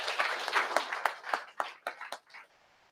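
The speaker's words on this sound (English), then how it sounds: "Big applause" Applause from a small audience at a livestreamed startup pitch event, fairly faint, with distinct claps that grow sparser and fade out over about two and a half seconds.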